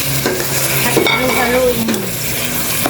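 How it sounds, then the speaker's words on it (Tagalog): Pork being sautéed in a hot pan, a loud close sizzle with scraping stirring strokes and a light clink of a utensil against the pan. "Gisa naman po natin itong pork."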